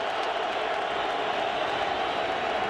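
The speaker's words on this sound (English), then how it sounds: "Crowd making a lot of noise" A football stadium crowd roars steadily during the 2006 Nevada vs Fresno State college game on a third-down play, a loud, dense, unbroken wash of noise with no single voices standing out.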